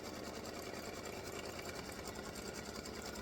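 An embroidery machine sews a placement stitch on a greeting card, giving a steady rapid mechanical hum and needle patter that stays even and continuous throughout, faint and alone.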